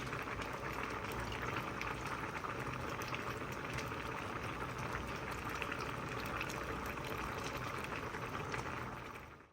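A pot of ginataang salmon with eggplant bubbling at a full boil, a dense, continuous rolling burble close by that stays even and loud for nearly ten seconds before cutting off.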